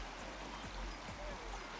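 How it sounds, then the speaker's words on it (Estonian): Water babbling through a stream in a ravine, a steady broadband wash with a few soft low thumps, heard close and continuous with no talk. "vesi uliseb ja"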